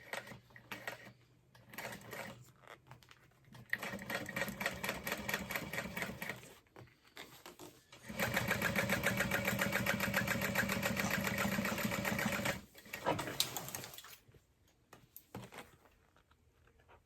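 A sewing machine stitches a backpack in short rapid bursts, then runs a longer steady backstitch pass, its fast mechanical chatter close and fairly loud, with brief pauses between runs and no talking.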